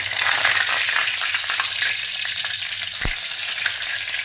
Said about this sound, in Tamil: இதுக்கு சோம்பு தாளிச்சுக்குவோம்.